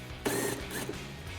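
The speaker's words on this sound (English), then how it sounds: "We've got our 7mm socket." A 7mm socket ratchet backs out a mud guard screw on a Ford Bronco, giving a close, quick run of clicking pawl ratchets in two short bursts with a faint mechanical hum between.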